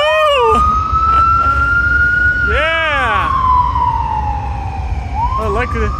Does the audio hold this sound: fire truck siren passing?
yes